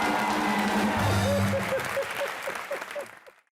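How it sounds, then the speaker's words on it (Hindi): Studio audience applause on the comedy show Comedy Nights With Kapil, a steady dense wash of clapping that holds loudly and then fades out toward the end, with faint voices mixed in. "एक बार जोरदार तालियां वीरू पाजी के लिए।"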